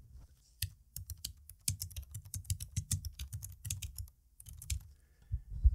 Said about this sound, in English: the low profile keys isn't for everyone. I love it. I love the smooth sounding.